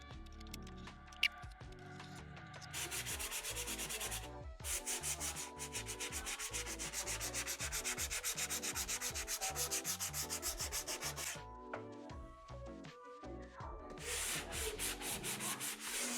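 Sanding a painted wood dining room built-in, steady rhythmic rubbing strokes in long close passes separated by short breaks.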